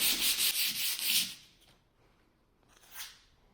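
Sandpaper, Mirka Mirox P80 grit, rasps hand-sanded strokes across a plastered ceiling cornice, a steady rapid scrubbing for over a second, then a pause and one brief fainter stroke, close and alone.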